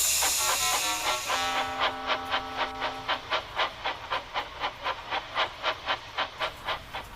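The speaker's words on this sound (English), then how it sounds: "Then Gordon popped by and wheezed steam at him." A steam engine on a railway releases a loud, bright hiss of steam that fades into a steady chuff. Rhythmic puffs of steam repeat evenly about twice a second, with no voices.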